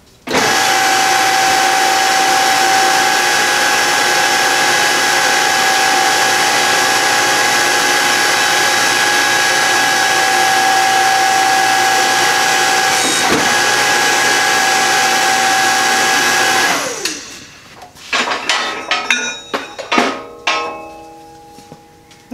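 A tube bender runs continuously for about seventeen seconds, a loud steady mechanical whine and grind as it bends aluminum square tube on an old prototype die, then stops, followed by scattered clanks and knocks of metal being handled.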